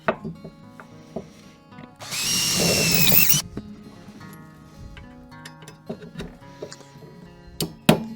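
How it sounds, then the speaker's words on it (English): A power drill bores through a wooden garden tool handle to fit a socket, a loud steady whine lasting about a second and a half, surrounded by quieter tapping and handling noises. "I'm going to have to drill it twice."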